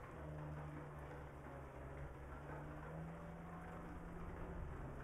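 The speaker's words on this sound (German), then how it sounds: "Ja, es regnet, wie ihr seht." Rain in the Euro Truck Simulator 2 game falls as a faint, steady hiss over the low hum of a truck engine, constant throughout with no talking.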